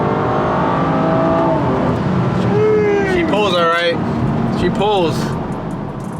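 A BMW F30 340i with a Dorch DS25 turbo accelerating hard, engine note rising loudly and steadily, with gear changes under a voice talking.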